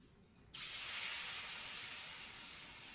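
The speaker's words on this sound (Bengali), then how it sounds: "এই ব্যাটারের মধ্যে ডিমগুলোকে লাগিয়ে লাগিয়ে একটা একটা করে ফ্রাই করে নেব।" Eggs coated in turmeric batter dropped into hot oil in a pan: silence, then a sudden loud sizzle bursts in and keeps hissing steadily, easing slightly as it continues.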